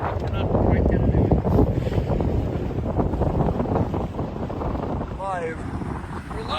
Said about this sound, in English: Wind is freshening, but not overwhelming